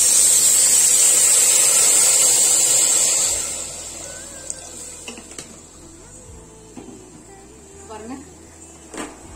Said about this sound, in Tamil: இப்ப இதுல நம்ம தண்ணி ஊத்திடலாம் தேவையான அளவு